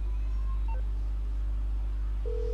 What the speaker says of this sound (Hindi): माइकल ने डेव को मिलाया फोन